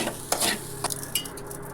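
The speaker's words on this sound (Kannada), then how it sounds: "ಸ್ವಲ್ಪ ಅಕ್ಕಿನ ಹುರ್ಕೋಬೇಕ್ರಿ ಸ್ವಲ್ಪ ಅಕ್ಕಿನ ಬಿಸಿ ಮಾಡ್ಕೋಬೇಕು ಪಾಯಸಕ್ಕೆ ಹಾಕಕ್ಕೆ" Rice being lightly dry-roasted in a pan for payasa, a Sankranti festival sweet, giving a few soft, close scraping stirs and faint crackles against a quiet background, with no talking.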